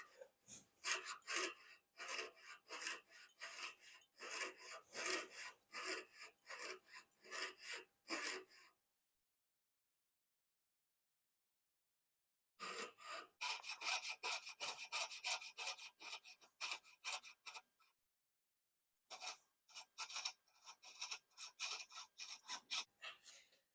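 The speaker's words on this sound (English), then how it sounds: "These jeweler saws you just have to go slow with, but they are pretty easy to bend around tight corners." A jeweler's saw cuts slowly through a small guitar inlay piece, a steady rapid rasp of fine strokes that runs in three bursts broken by full silences, close and alone with no talk.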